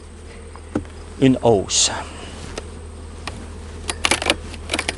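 Honeybees hum around beehive colonies while a super is added to the hives, a steady low buzz close by, mixed with handling clatter and a few words of French speech.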